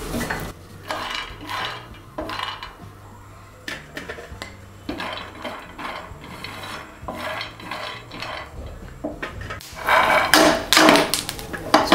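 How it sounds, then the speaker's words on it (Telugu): Peanuts dry-roasting in a kadai, stirred constantly: a busy rattle and scrape of nuts against metal, close and fairly loud, growing denser and louder toward the end. "పల్లీలు వేసి వేయించుకోవాలి."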